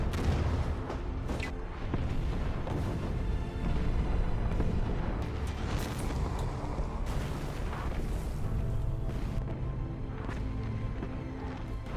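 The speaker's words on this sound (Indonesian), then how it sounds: "Ketika koordinat sudah tepat ke arah lokasi Uni Soviet, artileri pun langsung ditembakkan." German artillery barrage on the Soviet front, a sound effect of continuous heavy booms and rumbling detonations that overlap densely for the whole stretch, loud and dense with no pauses between blasts.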